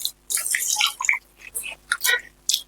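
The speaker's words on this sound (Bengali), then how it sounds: "আমরা জল দিয়ে ধুয়ে নিচ্ছি চালটাকে" Gobindobhog rice being rinsed with water by hand, heard as several short bursts of wet swishing and dripping close by, separated by brief pauses.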